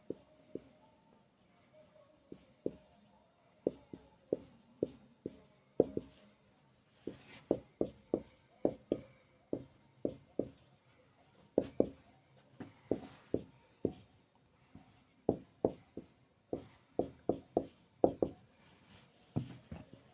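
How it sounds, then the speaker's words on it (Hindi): Chalk taps and scrapes on a board as maths questions on multiplying fractions are written, a long run of quiet, irregular clicks and short strokes in clusters, close but soft, with no talk. "जैसे कि हम लोग यहाँ पर क्वेश्चंस लिख रहे हैं अभी।"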